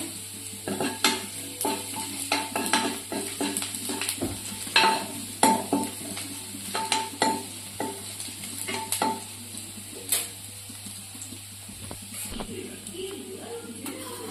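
Garlic frying in a pan over medium gas flame while being stirred, a steady sizzle under repeated scraping and clinking strokes of a spoon against the metal, close and fairly loud.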